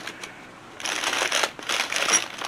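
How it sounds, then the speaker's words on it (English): A small ceramic ginger jar from a thrift haul is shaken by hand, giving a close, dry rattling clatter in quick irregular bursts, with no talk. "This one sounds very rattly."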